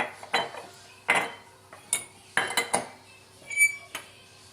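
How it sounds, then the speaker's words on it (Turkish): Eggs and sugar are beaten in a mixing bowl for a semolina dessert, heard as several close, sharp metallic clinks and knocks of utensil on bowl in short irregular bursts, without speech. "İlk önce karıştırma kabıma 2 tane yumurta, 3 yemek kaşığı şeker ilave edip iyice çırpıyorum."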